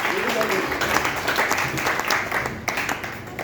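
An audience at a Hindi poetry gathering (kavi sammelan) breaks into a short burst of dense, crowded applause, with a voice speaking over the clapping throughout.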